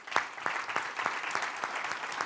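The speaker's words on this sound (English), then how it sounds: "Let's give all of the individuals a hearty round of applause again" An audience at an annual awards meeting and leadership academy graduation claps steadily in a dense, even patter that holds through the whole short stretch, with no talking over it.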